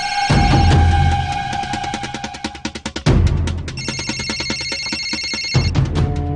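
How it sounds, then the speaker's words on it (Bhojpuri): A telephone rings loudly with a repeating electronic ringtone, steady melodic pulses that stop briefly and then resume, with no talk over it. "हाँ हाँ मालिक, जटाशंकर यादव जी के फोन है।"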